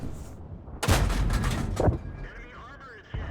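Tank cannon fire in a War Thunder-style game featuring a Type 3 Chi Nu and a T-34: one heavy blast with a rolling boom, a second sharp report, then a fainter distant shot.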